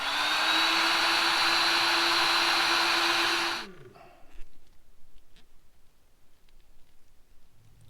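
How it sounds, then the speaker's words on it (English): A heat gun blows hot air onto a clear plastic tube for a garden sprayer pump, a loud, steady roaring whoosh that cuts off after a few seconds and leaves quiet room tone with faint handling noises. "So now I'm going to try to use the heat gun to heat this up"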